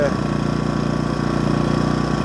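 Kvitka Pro SC2000i inverter generator running in eco mode, a steady, low, even engine drone with a faint rhythmic pulse, heard up close and continuous throughout.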